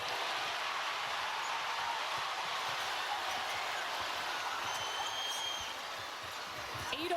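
Arena crowd at a women's NCAA Elite Eight basketball game between South Carolina and Duke, a dense continuous roar of fans rallying behind South Carolina, with commentators talking over it.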